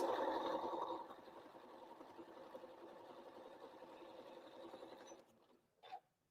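A sewing machine stitches quilt block units together for a Christmas Star block, a fast mechanical whir running steadily for about five seconds before stopping, followed by a faint clack.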